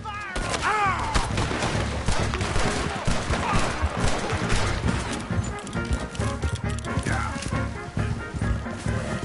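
Rapid gunfire in Red Dead Redemption 2, dense volleys of rifle and revolver shots cracking in irregular bursts, mixed with galloping horse hooves and a whinny, loud and continuous, with shouted voices over the fight.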